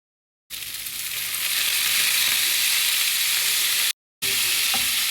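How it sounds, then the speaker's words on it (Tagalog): Tofu sizzles and fries steadily in a non-stick pan, a loud continuous hiss that cuts out briefly before resuming, with no talking. "Ilipat ko sa non-stick pan ang ating tokwa para hindi naminikit."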